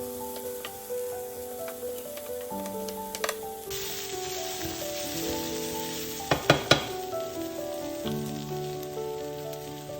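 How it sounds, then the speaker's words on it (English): Jackfruit and vegetables sizzle while being stir fried, a steady crackling fry under melodic background music, with a few sharp utensil clicks partway through. "I'm gonna just add the jackfruit and stir fry for another 10 minutes"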